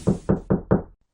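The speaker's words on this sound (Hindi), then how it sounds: "तभी किसी ने मेरा द्वार खटखटाया।" Someone knocking on a house door at evening: four firm, evenly spaced knocks, loud and close, followed by silence with no voices.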